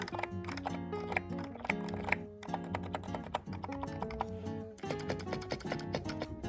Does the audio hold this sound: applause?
no